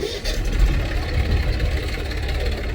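A tractor engine runs steadily on a farm, a loud, continuous low rumble at close range with no breaks.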